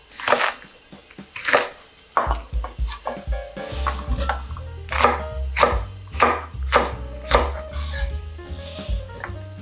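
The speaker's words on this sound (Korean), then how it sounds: "홍고추가 7개 들어갑니다." A knife slices seven red chili peppers on a cutting board for water kimchi, producing close, crisp chops in a steady rhythm, at times quickening into rapid bursts, with no voices over them.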